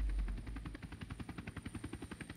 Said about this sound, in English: Extraction. Chopper arrives in 19 seconds.